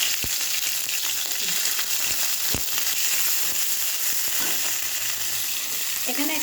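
Onion sizzling and frying steadily in a hot pan, a loud continuous crackle with scattered sharper pops and no voices.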